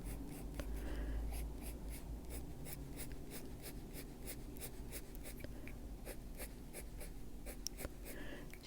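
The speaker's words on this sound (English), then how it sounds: "Just turn the pencil and get a sharper edge on that in some areas." A pencil shades and scratches across paper while a fantasy witch's hair is drawn and darkened, with steady soft rasping strokes, close and quiet, no voices.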